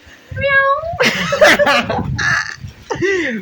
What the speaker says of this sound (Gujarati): ભાઈ અહીંયા તો મોર મ્યાઉ મ્યાઉ બોલે હે।